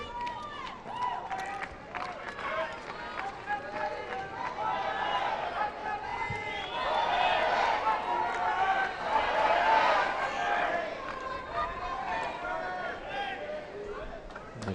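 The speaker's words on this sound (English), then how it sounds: "The crowd now trying to get behind their man." Tennis crowd at the 2003 Los Angeles final between Hewitt and Ferreira, a steady murmur of cheering and chatter that swells and holds for several seconds, with scattered claps and calls.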